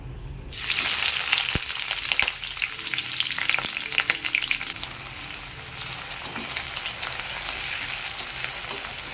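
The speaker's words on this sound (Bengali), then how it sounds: "আমার ফোড়নটা হয়ে গেছে এবার আমি পেঁয়াজ দিয়ে দেব" Onions dropped into hot oil tempered with cumin, bursting into a loud, dense sizzle that holds steady and close, with faint stirring clicks and no talking.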